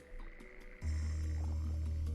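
Toads from the video game Stormbound croak in a steady, close, loud low drone that kicks in abruptly after a brief softer opening.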